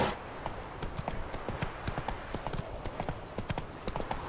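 Roach, Geralt's horse in the game Witcher 3, gallops with rapid, evenly rhythmic hoof clip-clops throughout, quiet and steady with no break.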